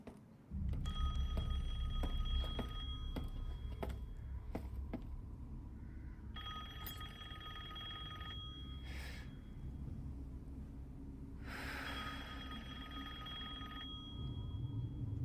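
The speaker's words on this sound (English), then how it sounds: "you hear the ringing bell. Or the phone, I guess it's called" A telephone bell rings repeatedly inside the horror game Resident Evil Village, its bright metallic trills coming in bursts over a low, rumbling ambient drone, with some gasping or breathy sounds mixed in.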